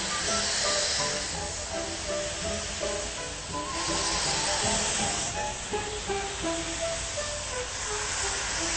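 A steam locomotive on a passenger train ride hisses loudly and continuously, a dense rushing spray of escaping steam close by, with faint rhythmic rail and machinery tones running beneath it.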